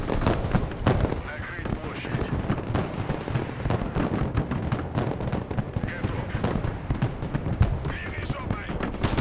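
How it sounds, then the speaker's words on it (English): Mortar artillery fire in the video game Broken Arrow, dense repeated booms and crackling blasts in a continuous loud battle din, with voices talking over it. "I need to get my mortars going."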